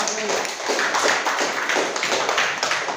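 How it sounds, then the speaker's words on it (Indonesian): Applause from a seminar audience rewarding a question during a lecture on auditing and compliance, a steady dense patter of many hands clapping close by for the whole stretch, with no voices over it. "Tepuk tangan dulu untuk pertanyaannya."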